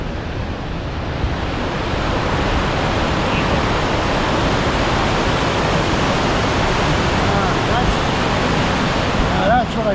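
The waterfall at Idaho Falls roars as a loud, steady broadband rush of falling water, close and continuous throughout, with a faint wind buffet at the microphone.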